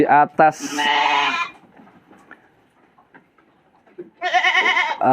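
Goats and sheep kept in separate pens on a livestock farm raising Boer, Saanen and Dorper breeds, loud close bleats at the start and end with quieter murmuring between.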